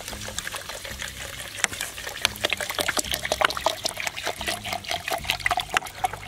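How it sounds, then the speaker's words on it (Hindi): Water poured into a container of calcium carbide, with fizzing and bubbling from the acetylene gas that forms. Close, crackly, irregular pops and trickles over a low background hum. "आप देख सकते हैं कि इसके अंदर से बुलबुले निकल रहे हैं और ये बुलबुले हैं एसिटिलीन गैस के"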